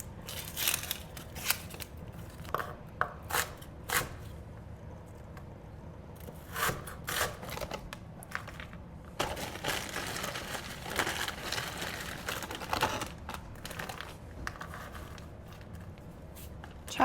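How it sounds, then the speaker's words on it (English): A knife chops one onion and strips of frozen garden bell pepper on a board in a home kitchen, giving irregular sharp taps and scraping rubs at close range, with no talking. "I'm gonna cut up 1 onion"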